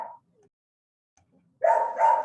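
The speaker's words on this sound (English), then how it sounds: "I think, Mitchell, it's hilarious that he barks or she barks it whenever you speak." A dog gives a short bark, falls silent, then lets out two louder barks in quick succession, fairly close and clear against a quiet background.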